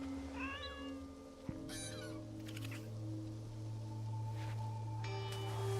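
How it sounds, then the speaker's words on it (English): A cat meows a few times inside a house in Assassin's Creed Shadows, close and clear against a steady ambient game soundscape with other animal-like calls and a brief click. "There's a cat in here."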